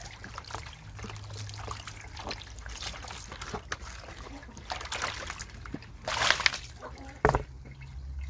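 Tap water runs and trickles steadily while a chicken drinker basin is rinsed clean, with splashing bursts near the end and faint background noise throughout.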